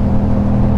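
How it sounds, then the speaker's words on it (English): A motorcycle engine held at high RPM in a lower gear while riding in traffic, a loud, steady, dense drone through a brief moment. "if I'm in a lower gear with a higher RPM like this"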